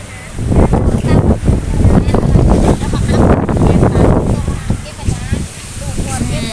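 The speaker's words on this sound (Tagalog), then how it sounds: "It's windy" Strong wind blows at Bang Saen beach in Thailand, a loud, continuous rumbling gust buffeting the microphone throughout, with faint surf underneath.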